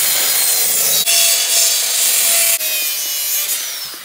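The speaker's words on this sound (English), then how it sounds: "it allows me to come back with the circular saw and really hug this line and the excess kind of peels off" A circular saw cuts along a curved line in a sheet of plywood to shape a brick arch form, a loud, steady close-up whine with two brief dips where the blade eases off, then carries on alone.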